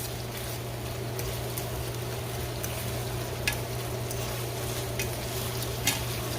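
Callaloo and saltfish cooking down in a pot in a Jamaican-style kitchen, a steady low sizzle and simmer with faint occasional clinks of stirring, no voices.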